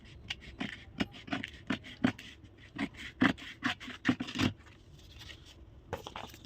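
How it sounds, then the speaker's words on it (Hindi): Scissors cut through shirt fabric for the back panel of a ladies shirt, giving a quiet series of irregular crisp snips and rustles close by, with a brief pause near the end. "तो हम बैक पार्ट के अकॉर्डिंग अभी पूरी कटिंग करेंगे।"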